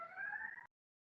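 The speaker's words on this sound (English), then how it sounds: "that is a siren in the background there." A distant siren holds a steady wailing tone in the background for about half a second, faint and alone, then cuts off into silence.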